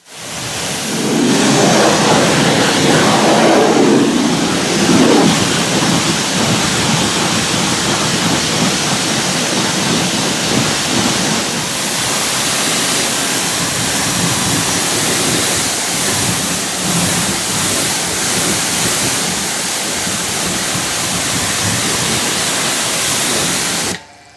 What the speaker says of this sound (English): the snow foam, along with the TFR underneath it, was thoroughly rinsed off at pressure